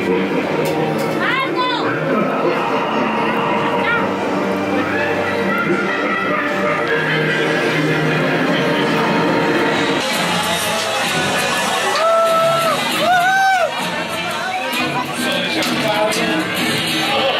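A lively crowd at a pirate-themed show in Cancun cheers and shouts, with a dense, steady hubbub of many voices and a few louder whoops rising near the end.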